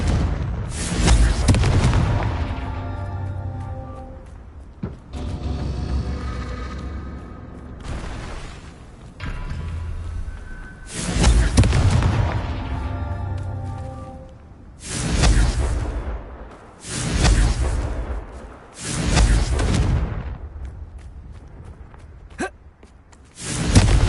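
Confringo blasting spells in Hogwarts Legacy set off a series of loud, booming explosions, each with a long decaying rumble, coming in irregular bursts separated by short pauses.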